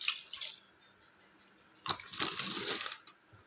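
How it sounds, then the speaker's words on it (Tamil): Water pours and splashes into a cooker of washed beef, a brief gush starting midway with trickling and faint clinks, no voices. "1 டம்ளர் தண்ணி சேர்த்துக்குவோம்."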